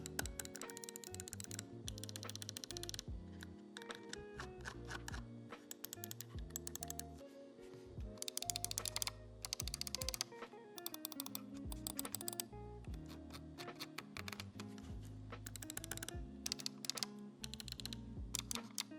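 Razer Viper Mini and DeathAdder V2 Mini mice with optical switches are clicked rapidly in dense, crisp runs right up close, with no talking.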